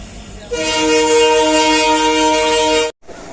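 A train horn sounds at a railway station platform, a loud sustained multi-tone blast lasting over two seconds before cutting off abruptly, with platform ambience resuming afterward.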